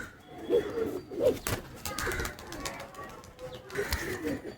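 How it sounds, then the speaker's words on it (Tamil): Pigeons coo and flutter outdoors as a trained homing pigeon is released for its daily flight; several soft coos and brief wing sounds come over a busy, moderately near background. "நம்ம முதல் புறா"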